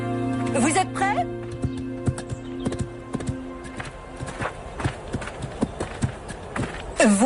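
Horses walk with hooves clip-clopping in a steady, uneven patter beneath French conversation, with a short whinny at the start and another near the end.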